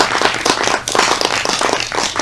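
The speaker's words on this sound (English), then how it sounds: "we owe Professor Libecap a huge round of applause" An audience breaks into loud applause for Professor Gary Libecap at the end of a Dust Bowl lecture, with close, uneven bursts of clapping and no talk over it.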